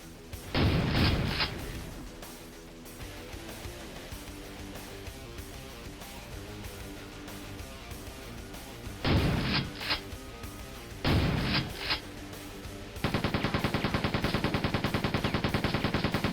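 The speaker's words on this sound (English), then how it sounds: "The machine gun's very similar sound." Machine gun bursts from Quake II: a short loud volley, then two more bursts after a pause, ending in a sustained rapid stream of evenly spaced shots.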